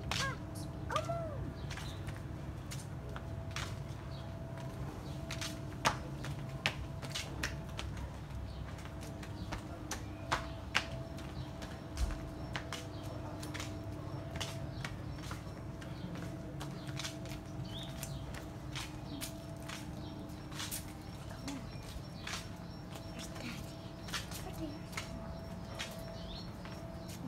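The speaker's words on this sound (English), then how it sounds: "It's just a bird." A bird calls intermittently in the open-air Byblos souk, set against a low market hum with frequent sharp clicks and taps, fairly faint and with no voices.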